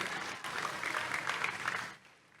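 Applause from an audience at a church sermon: steady clapping that swells for about two seconds, then quickly fades to quiet room tone.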